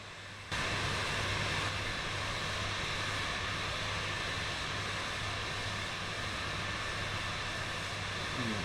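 Jet engine of a Cirrus Vision Jet G2 in a flight simulator game spooling up for takeoff, a steady loud broadband roar with a low hum that jumps in after half a second and holds constant.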